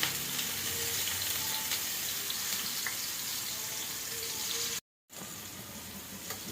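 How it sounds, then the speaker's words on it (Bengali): Raw banana pieces fry in hot oil, a soft, steady, even hiss that drops out for a moment near the end before resuming; no voices. "তেলও গরম হয়ে গিয়েছে এখন আমার এই যে মাখানো কাঁচা কলাগুলো দিয়ে ভাজবো"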